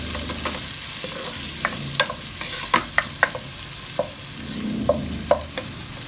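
Chopped onions with garlic sautéing and being stirred in a hot pan, a soft steady sizzle broken by sharp clicks and scrapes of the spoon against the pan.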